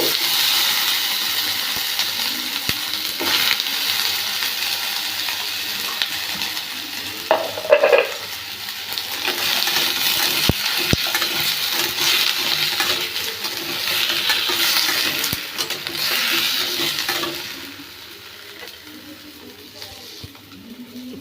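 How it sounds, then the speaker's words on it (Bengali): Pumpkin, pointed gourd, ridge gourd, radish and teasel gourd fry together in hot oil, a steady close sizzle broken by stirring scrapes and clanks, easing to a quieter hiss near the end. "তেল দিয়ে দিয়েছি, এবার আমি আস্তে আস্তে সবজিগুলো সব দিয়ে দেবো।"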